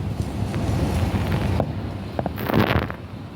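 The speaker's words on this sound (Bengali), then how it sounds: "আজকে প্রচুর হাওয়া দিচ্ছে, প্রচুর।" Strong wind sweeping in off the Ganges into a room, a loud continuous rushing roar buffeting the microphone, with a few gusty bursts and faint knocks.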